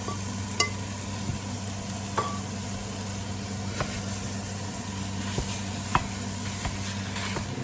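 A pound of ground beef sizzles steadily in a hot pan while a mix-and-chop tool breaks it into crumbles, with sharp little scrapes and clicks popping out now and then over the constant frying hiss.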